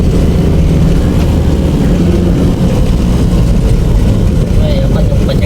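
A vehicle engine strains at low speed, a loud steady drone and rumble throughout with faint wind noise, under a person talking.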